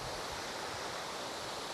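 Revels Falls near Maroondah Reservoir, a waterfall pouring as a steady, even broadband rush of water, constant and fairly soft with no other sounds.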